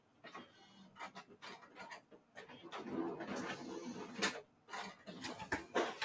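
A photo printer runs its prep cycle after a week unused, giving quiet, irregular mechanical clicks, whirs and clunks close by, with no talk.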